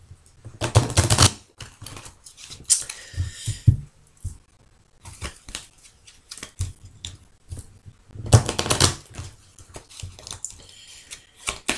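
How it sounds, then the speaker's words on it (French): Lenormand fortune-telling cards are shuffled by hand, producing bursts of crisp riffling and flapping between quieter taps and soft card slides, close up with no talking. "je vais procéder déjà au battage des cartes"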